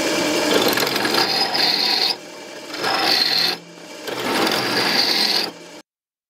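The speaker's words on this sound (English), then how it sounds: "Obviously I need to deburr these really good so so to not hurt the line that goes through." Metal counterweight parts for a Libreflip are deburred in three bursts of harsh, close rasping scraping separated by short quiet gaps.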